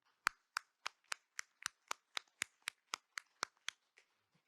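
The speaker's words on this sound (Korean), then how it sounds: "뜨거운 박수로 본 세션을 마치고자 합니다" Applause closing a forum session sounds as about fifteen crisp, evenly spaced claps from a single pair of hands, faint and alone against silence, slowing and fading at the end.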